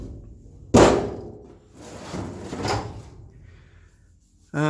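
Metal tool chest drawer with rough repair welds, slammed with a sharp close bang, then slid with a scraping rumble, ending on another abrupt knock, heard alone in a quiet workshop.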